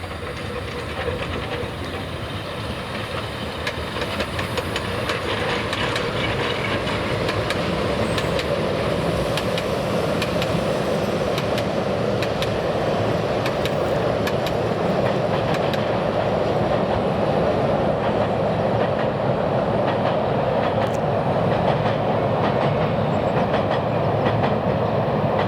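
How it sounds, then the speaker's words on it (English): Fichtelbergbahn narrow gauge train departing over a viaduct, a steady rumbling roll with faint wheel clatter that holds at an even, moderately distant level throughout. "the 1413 hours train departs over the Fichtelbergbahn viaduct"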